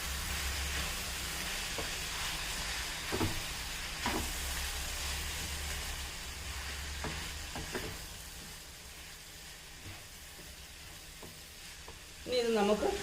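A Malayalam mixed vegetable stir-fry (koottu poriyal) with ground coconut paste just added fries in a pan. A steady soft sizzle is broken by occasional stirring scrapes, and a louder clatter comes near the end, with no voices.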